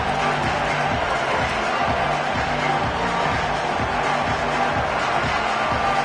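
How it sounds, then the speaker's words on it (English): Continuous, loud roar of a packed stadium crowd at a football playoff game, an unbroken wall of cheering noise with faint voices buried underneath. "the crowd is making it really hard to communicate and hear each other right now down on the field"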